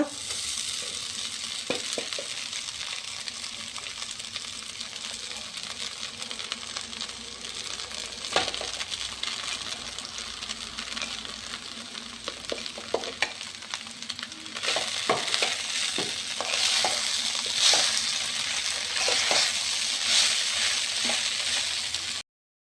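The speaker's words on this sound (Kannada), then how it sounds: "ಇದನ್ನೆಲ್ಲ ಚೆನ್ನಾಗಿ ಮಿಕ್ಸ್ ಮಾಡಿ ಈಗ ಈಗ ಇದಕ್ಕೆ ಅವಲಕ್ಕಿ ಮಿಕ್ಸ್ ಮಾಡುವ" Poha (flattened rice) with onion being stirred in a frying pan during tadka: steady sizzling with repeated scraping and clinking of the spoon against the pan, close and continuous, growing slightly brighter partway through.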